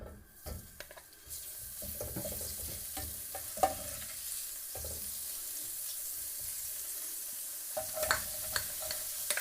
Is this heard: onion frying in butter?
yes